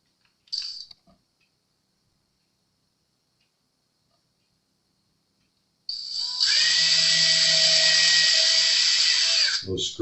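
Power drill driving short screws into a Jazz Bass build: a brief click and buzz, a long quiet gap, then a close, high-pitched whirring drill run of about four seconds that stops abruptly.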